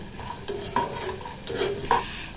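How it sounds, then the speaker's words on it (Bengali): A spatula scrapes and stirs mixed vegetables frying in a pan for a vegetable dal, giving several close, uneven scraping strokes over a faint, steady sizzle. "এরপর খুন্তির সাহায্যে বেশ ভালো করে নেড়ে ছেড়ে ভেজে নেব।"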